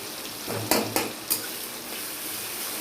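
Crushed garlic and green chilli frying in oil with black cumin, a soft continuous sizzle with a few sharp clinks and scrapes of a spoon stirring the pan early on.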